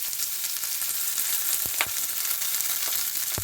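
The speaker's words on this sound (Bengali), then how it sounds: "তেলটা গরম হয়ে গেছে এবার আমি ফোড়নে দিয়ে দিচ্ছি গোটা এলাচ দারচিনি খাওয়ার চিনি আর তেজপাতা এবার দিয়ে দিচ্ছি পেঁয়াজ কুচি" Chopped onion frying in hot oil with whole cardamom, cinnamon, sugar and bay leaves, a steady close sizzle with a few sharp pops and spatters over the hiss.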